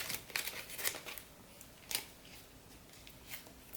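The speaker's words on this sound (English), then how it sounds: "Again, I use a piece of masking tape" Masking tape being torn and pressed to join two pieces of paper being wound onto a paper roll spool, giving a few short crinkly rips and rustles with quiet gaps between them.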